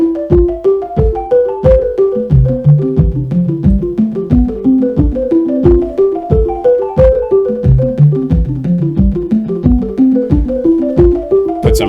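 A quick, steady sequence of plucky notes from a Buchla-style 258t dual oscillator on a modular synthesizer, with echoing delay repeats trailing behind each one, loud and continuous throughout.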